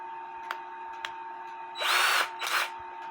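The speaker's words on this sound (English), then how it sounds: "I put this bushing on this bamboo stick, and then I put it in my drill." A power drill spins a bamboo stick holding a brass cuckoo clock bushing, with a steady whine and two short loud bursts of higher-speed whirring near the end.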